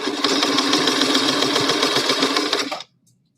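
A sewing machine stitches a fabric mask in one continuous, buzzing run of rapid needle strokes, close and steady for nearly three seconds, then stops abruptly into silence.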